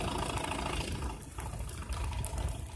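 A car engine with a DIYPNP ECU idling roughly, a dense uneven rumble with irregular knocks and a slight dip in the middle, close and steady, with no talking.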